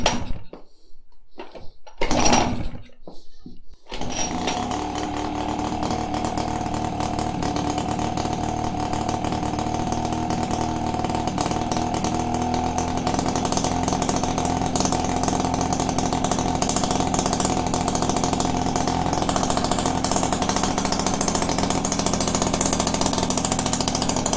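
A smoking Brixton Felsberg 125 motorcycle engine sputters through a few short bursts, then catches and settles into a steady, buzzy, close running note that holds to the end.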